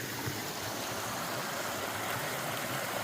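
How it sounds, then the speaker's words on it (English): A small creek flowing under a trail bridge on the Foothills Trail, a steady, close rushing wash of water with no break and no voices. "Gorgeous little creeks and stuff that you're crossing here."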